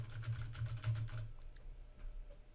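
Typing on a computer keyboard, a quick run of soft, close key clicks for about a second, then trailing off into quieter taps and room noise.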